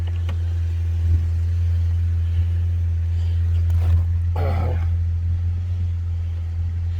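A 2013 Cadillac CTS V6 with Cherry Bomb Salute mufflers idles with a steady, deep exhaust drone, close by, with a brief burst of louder noise midway.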